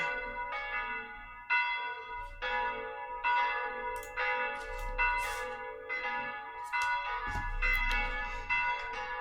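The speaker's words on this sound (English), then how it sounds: "Here come the bells. Morning bells." Church bells peal in the morning, a steady sequence of resonant strokes roughly every second with ringing overtones that overlap and sustain, loud and clear with no talking.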